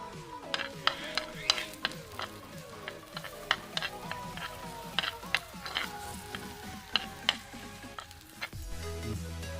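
Green chillies go into a pan of Kerala-style shrimp roast, giving a soft, steady sizzle broken by rapid clicks and taps of a spoon stirring against the pan, with no one speaking.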